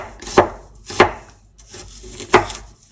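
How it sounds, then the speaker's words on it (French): A knife slices through an onion on a cutting board with three crisp, close thuds at uneven intervals and quiet pauses between them. "Et pour émincer, ce sont juste des petites coupes comme ça."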